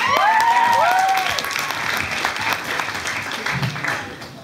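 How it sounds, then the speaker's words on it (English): An audience claps and applauds steadily, with a few whoops and a brief voice heard near the start over the clapping. "big round of applause for Jack."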